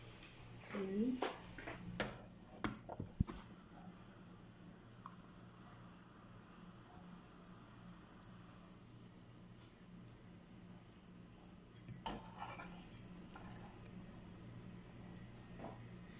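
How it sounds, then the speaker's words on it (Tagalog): Water runs from a tap into a cooking pot in a home kitchen, a faint steady trickle with a few clanks and knocks, and some quiet background voices. "Lalagay ko muna siya ng tubig."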